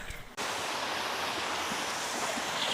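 A constant broad rush of flowing water starts abruptly and continues steadily, loud and close, like a river running fast over rocks, in Pulang Bato, Talisay, Batangas.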